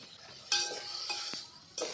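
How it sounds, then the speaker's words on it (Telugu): Paneer pieces frying with garam masala and chili powder for a paneer biryani, short bursts of sizzle and metallic clinks from a spoon scraping the pan, heard close with no talk. "గరం మసాలా, కారం యాడ్ చేసి 2 నిమిషాలు ఈ విధంగా ఫ్రై చేయండి"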